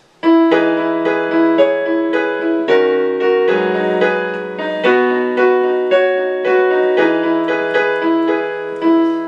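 Solo acoustic piano plays a song in an acoustic version, each chord struck clearly and ringing out, close and loud with no voices.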